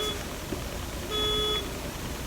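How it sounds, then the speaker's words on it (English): An alarm beeps in a store, thin electronic tones in short bursts: a brief one at the start, then a longer sustained beep near the middle. It sounds moderately distant under a steady background hum, with no talking. "Somebody's alarm going off."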